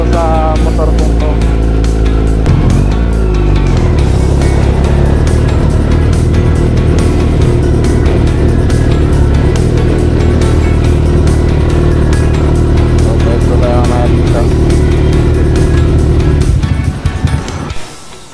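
A Yamaha XSR155 motorcycle being ridden, its engine droning loud and close for the whole stretch with steady low harmonics and shifting pitch, fading out at the very end.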